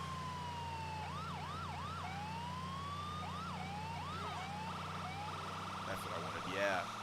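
A police siren in the video game GTA IV wails and yelps in repeated rising-falling sweeps over a steady engine drone, shifting to a faster warble near the end.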